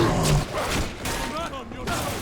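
Gunfire in the video game Bioshock 2, loud bursts and thumps layered over shouting voices in a chaotic firefight.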